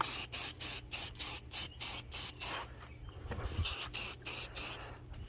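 Rhythmic bursts of aerosol spray paint hiss, about a dozen short passes, as a first coat of black goes onto a 1977 Kmart box fan during restoration, close and fairly loud with brief gaps between strokes.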